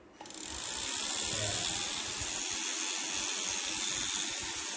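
An electric fishing reel winding fast, a steady loud whirring mechanical hum that starts abruptly and runs continuously, close and without talk.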